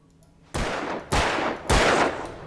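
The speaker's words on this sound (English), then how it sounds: "These guys took 2 hits from the hunting rifle." Three loud, booming hunting rifle shots from a bolt-action gun in the video game Alan Wake, fired about half a second apart, each with a long echoing tail and no talking.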